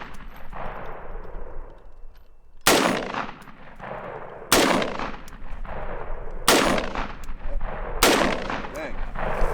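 Gunshots from a handgun fired at targets on a range through a reflex sight, four loud sharp reports spaced about two seconds apart, each ringing out briefly over a low outdoor background.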